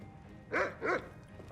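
A dog in Skyrim gives two short, clear barks close by, with a brief gap between them and nothing else around.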